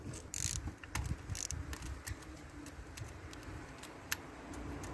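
A ratchet clicks in short bursts and scattered ticks while ignition coils come out of a 2010 Toyota Camry SE engine, close and fairly quiet, with no talking.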